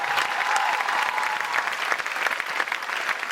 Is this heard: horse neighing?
no